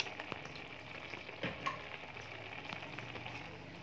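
Guava stew with soy sauce sizzles quietly in a pan while it is stirred, giving a faint steady frying hiss with a few soft scrapes and taps and no speech.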